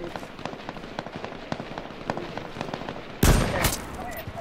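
A sniper rifle in the battle royale game H1Z1 cracks loudly near the end, a single sharp blast standing out over a stretch of quieter clicks and ticks.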